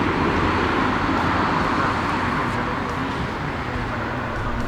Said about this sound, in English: So I can hear the car slowly come in my way, then I hear it very well when it's right beside me